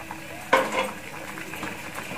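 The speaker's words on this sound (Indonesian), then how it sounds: "Lalu kita aduk-aduk lagi" Japanese curry being stirred in a pan after a spoonful of tomato sauce is added, giving one sharp utensil knock and a short scraping clatter against the pan amid a faint steady simmer.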